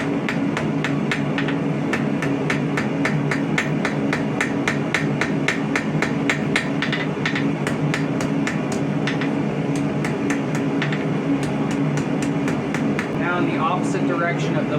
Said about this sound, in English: We're going to square the whole thing up. We're going to taper the end.